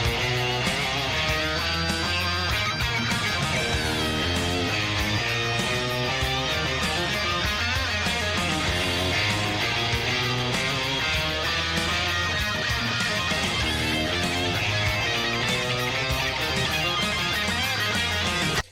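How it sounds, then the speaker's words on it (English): The electric guitar riff from a song drives on steadily with a full dense band mix underneath, continuous and moderately loud from start to finish, with no talking. "And then the kind of riff starts for the guitar solo part."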